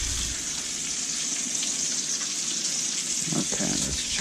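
Bacon frying in a pan gives a steady, close hiss and crackle that runs without a break and has no talk over it.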